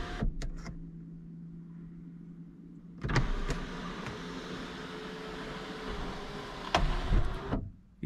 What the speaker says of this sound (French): après on a le toit ouvrant qui est automatique, qui est électrique